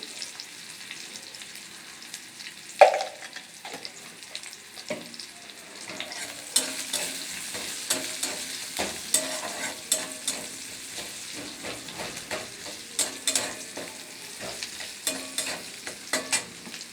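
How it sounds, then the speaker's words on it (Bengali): Chopped small onions with salt frying in a pan, a soft continuous sizzle under repeated scraping and stirring strokes of a spatula, fairly close and steady. "পেঁয়াজটা যাতে একটু তাড়াতাড়ি ভাজা হয়ে যায়"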